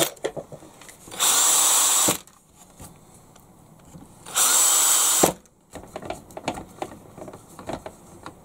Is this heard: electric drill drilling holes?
yes